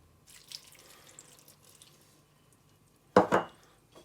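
Water poured into a pot while cooking Balkan-style stuffed peppers, a brief close splash and trickle after near silence with faint kitchen clatter.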